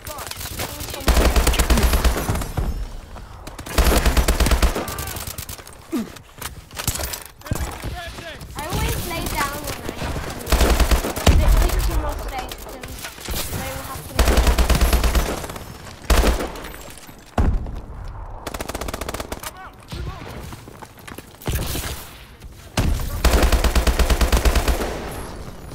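Rapid machine gun bursts and single gunshots in a video game firefight come in repeated loud volleys with short gaps, and voices call out now and then over the shooting.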